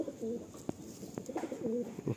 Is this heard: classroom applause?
no